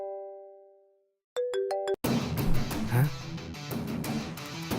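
A phone ringtone, a few clear melodic tones and beeps of an outgoing call, followed by people talking and background music.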